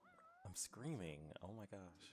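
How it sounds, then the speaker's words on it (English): A talkative cat in the Final Fantasy XV game gives a few drawn-out, rising meows at close range, heard amid a player's excited talk. "That's a very talkative cat."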